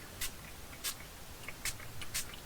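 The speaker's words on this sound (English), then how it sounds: "So I just want to get a little bit of Distress Oxide spray" Distress Oxide spray in Uncharted Mariner misted onto paper for ephemera making: four or five short, close hissing spritzes in quick succession, separated by brief pauses.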